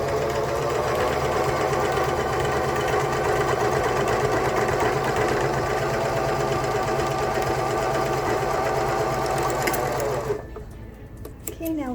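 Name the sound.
serger sewing machine stitching face mask lining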